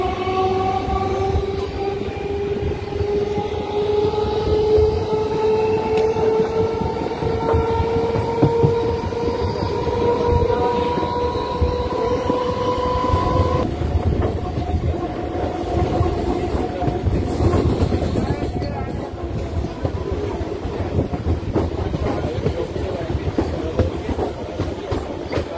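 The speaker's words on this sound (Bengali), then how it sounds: "বাগিলা রেলওয়ে স্টেশন থেকে আমাদের ট্রেন ছেড়ে দিয়েছে" A local train runs from Bagila station toward Memari, a steady rolling rumble of wheels and carriages throughout, with long sustained horn tones over the first half and continuous rattling alone.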